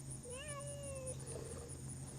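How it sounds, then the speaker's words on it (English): A single drawn-out, slightly wavering meow from a sick, hungry cat, fairly faint against a steady background hum. "Meow."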